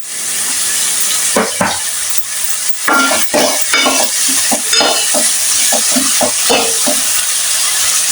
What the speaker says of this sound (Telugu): కొంచెం బ్రౌన్ కలర్ వచ్చే వరకు వేయించుకుందాం